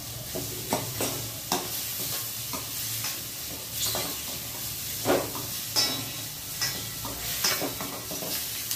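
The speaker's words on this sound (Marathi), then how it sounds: "कांदा चांगला होऊ दे।" Chopped onion fries in oil in a pan for a black-eyed pea (chavli) bhaji. A steady moderate sizzle runs throughout, broken by repeated scraping and tapping as a spoon stirs it.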